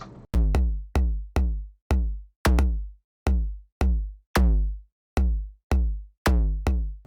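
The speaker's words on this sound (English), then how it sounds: "The bass drum is here. In isolation, it sounds like this." A deep synthesized bass drum from a Pure Data patch thumps alone, about a dozen evenly spaced hits with punchy attacks and short booming decays.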